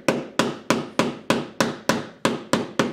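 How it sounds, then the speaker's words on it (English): A wooden planing stop being hammered down into a workbench: ten sharp, evenly spaced blows about a third of a second apart, each a loud, close knock that rings briefly and fades. "needs to be hammered pretty solidly down into the bench, so it's good and stiff"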